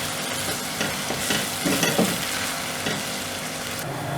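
Spicy beef curry cooking in a pot until light brown, a dense steady sizzle with scattered stirring scrapes and clinks, close and continuous with no talk.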